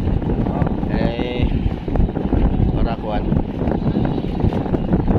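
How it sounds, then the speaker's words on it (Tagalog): Strong wind buffets the microphone on a boat out on the Pacific Ocean, a heavy low rumble that rises and falls in gusts, while people talk over it. "Malakas po ang hangin dito mga kasuyo"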